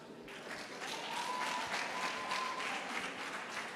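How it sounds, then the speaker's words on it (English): Applause from the audience at the Wavumbuzi Awards ceremony, a soft, distant wash of many hands clapping that holds evenly throughout. "One more time, a round of applause"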